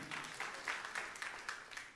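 Church congregation clapping during a sermon, a short burst of scattered, uneven hand claps at moderate distance.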